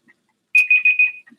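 A kitchen-style timer alarm goes off with a loud, close series of four quick high electronic beeps, then starts again.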